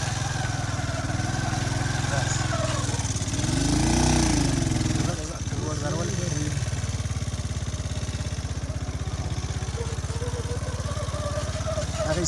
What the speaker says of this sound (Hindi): मोटरसाइकिल फंस गया व्यूअर्स